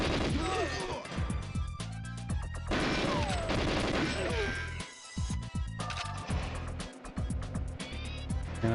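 Gunfire in GoldenEye 007, the 1997 video game, rings out as repeated sharp shots and clustered bursts over busy game music and effects, with a player talking at times.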